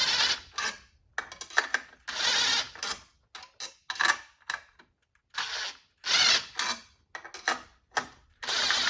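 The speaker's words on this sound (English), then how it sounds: "now we're gonna keep tightening this up. We're compressing the spring in there" Repeated short metallic clicks and ratcheting bursts from a tool being tightened to compress a spring on a 1967 Honda CT90 rear assembly, rhythmic and close with brief pauses between strokes.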